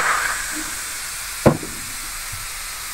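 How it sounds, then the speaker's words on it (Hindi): Steam escaping from a pressure cooker of chicken dal chana as its pressure is released, a soft steady hiss throughout, strongest at the start, with one sharp metallic clank near the middle. "प्रेशर को खोल लेंगे, स्टीम रिमूव हो चुकी है"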